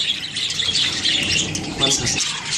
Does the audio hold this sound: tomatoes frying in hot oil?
no